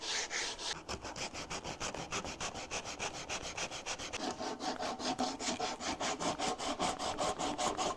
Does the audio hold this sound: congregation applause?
no